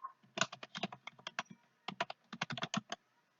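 Quick bursts of keyboard typing, crisp close-up clicks in two runs separated by a brief pause, with no talking.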